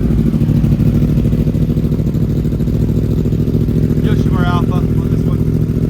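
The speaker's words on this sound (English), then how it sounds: "R1. Cold start again." A 2023 Yamaha R1 sport bike cold-starts and settles into a loud, steady, throbbing idle close by, with a short burst of voice near the end.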